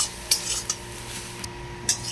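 Metal spoon scraping and knocking against a cooking pot while food is stirred and mixed with salt, a few sharp clinks over a steady low background.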